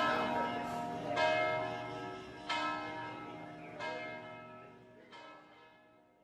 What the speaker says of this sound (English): the bell of San Marco Square. It rings at noon and at midnight.